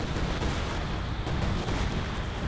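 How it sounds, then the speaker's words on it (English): Heavy airstrike explosions in the Company of Heroes 2 video game, a continuous, loud rumble of overlapping blasts and booming impacts with no pauses. "Up, airstrike's coming in."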